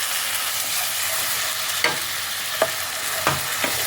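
Spices including Kashmiri chilli powder and cumin powder stir-fried with a splash of water in a pan, a steady broadband sizzle broken by a few sharp scrapes of a spatula, close and fairly loud with no talking.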